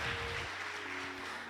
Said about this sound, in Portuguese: Salve de palmas para esse pessoal.